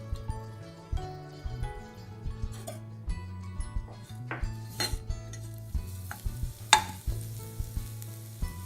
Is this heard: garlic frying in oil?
yes